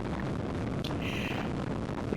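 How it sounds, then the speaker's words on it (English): Heavy wind buffets the microphone of a rider on a 125cc motorcycle on the motorway in a constant low roar, loud and rushing, with a brief higher whoosh partway through. "It can get a little bit windy"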